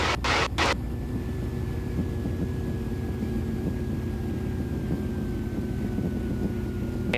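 A small aerobatic airplane lands at idle power, heard as a steady low cockpit drone with a faint whining tone slowly falling in pitch, after a couple of brief bumps at the start.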